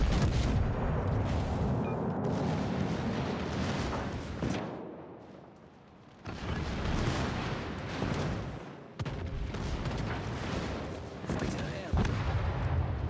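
Tank gun fire in World of Tanks, with heavy booming blasts and rumbling battle noise that fade into a brief lull and then resume loudly.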